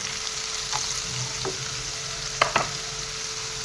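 Salt and turmeric are stirred into fish in a pan over a soft, constant sizzle. A few faint spoon scrapes break through the hiss, with two sharper ones near the end.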